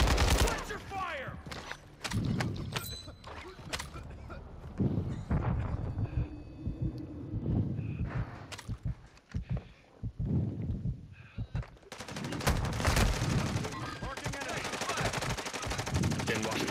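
Warzone 2 combat: rapid bursts of automatic gunfire and scattered single shots crackle near and far through the whole stretch, with brief lulls and a dense, loud volley near the end.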